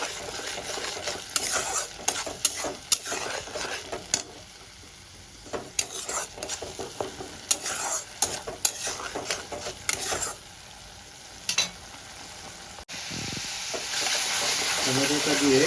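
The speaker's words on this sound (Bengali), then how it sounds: "ভালো করে টমেটোর পেস্টটা আমি কষিয়ে দেবো, কাঁচা গন্ধটা চলে যাওয়া পর্যন্ত।" Tomato paste fries in a pan, hissing and sizzling up close while a spoon stirs and scrapes in uneven bursts. A louder, steadier hiss swells near the end.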